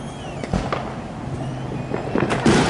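Fourth of July fireworks crack and pop in the sky, with several sharp bangs scattered over a steady background hiss, heard outdoors from a distance.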